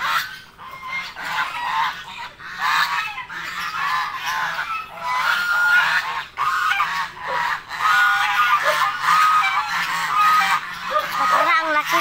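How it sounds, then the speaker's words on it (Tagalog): A flock of geese honks continuously, many loud overlapping calls close by, with a person talking now and then beneath the racket. "Yan po mga kaidol, naray lang gansa."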